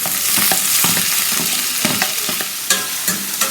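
Chopped onion and tomato sautéing in a pan for mutton chukka, a steady close sizzle with repeated scraping stirs of a spatula throughout, no voices.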